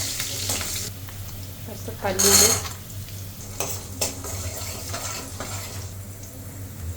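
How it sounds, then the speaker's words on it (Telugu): A tempering of cumin, mustard seeds, curry leaves, green chillies and cashews crackles in hot oil, a soft, steady sizzle with a brief louder spatter and light utensil clinks, while a voice speaks a word. "నూనె వేడెక్కిన తర్వాత కాస్త జీలకర్ర, ఆవాలు, కరివేపాకు, పచ్చిమిర్చి, జీడిపప్పు,"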